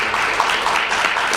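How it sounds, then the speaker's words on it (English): A short burst of dense audience applause before a live courtroom-themed reading performance. The clapping is steady and fairly loud, with no talk over it. "So, big hand clap for them."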